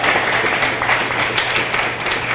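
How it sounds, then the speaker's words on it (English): A high school scholarship ceremony crowd applauds steadily throughout, a continuous broad patter of many hands at even loudness with no pauses. "Y'all give Miss Niblett a big round of applause"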